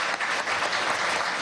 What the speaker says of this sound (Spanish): Vamos a darle un aplauso a José Salamat Cam